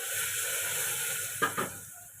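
Potatoes frying with curry leaves and a pinch of asafoetida in a pan, giving a steady soft sizzle with two brief louder crackling bursts near the end, no talk.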